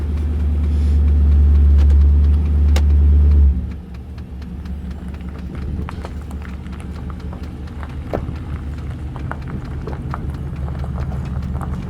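A Hemi-swapped, body-swapped Dodge car drives on the road, with a loud low engine rumble that drops after a few seconds into a steady cruising drone heard from inside the car.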